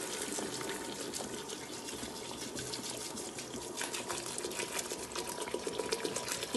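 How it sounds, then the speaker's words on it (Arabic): Boiling water is poured from a kettle or pot onto couscous in a home kitchen, making a steady, close splashing gush that runs for several seconds. "فعندي الماء ديجا غليان هو اللي غادي نسقي به"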